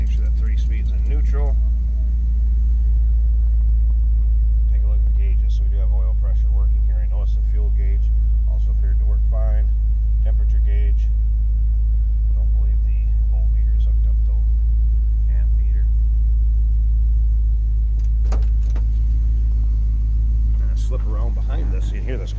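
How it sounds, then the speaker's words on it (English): A 1972 Chevrolet Chevelle Heavy Chevy with a 350 V8 and a three-speed in neutral idles warmed up. It gives a steady, loud, deep rumble throughout, with a voice talking over it at times. "You can hear this car run. Good sounding 350 underneath the hood."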